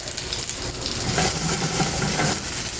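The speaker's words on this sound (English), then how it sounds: "Yes, you wanna hear that sizzle, right? That's how you know your pan is hot enough." Green beans frying in a hot pan, crackling and hissing steadily up close with occasional stirring clinks and no voices.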